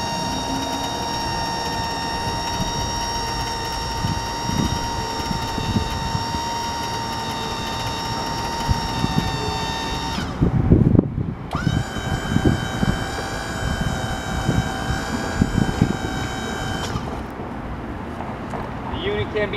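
A reversible boom crane running its powered boom lift and extension, a steady high electric motor whine with a hum underneath, briefly stopping near the middle before resuming, close and continuous.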